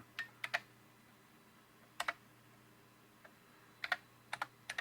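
Sparse keystrokes on a computer keyboard of an upgraded AT&T PC 6300, in short clusters of two or three clicks separated by pauses, close and crisp over a faint steady hum.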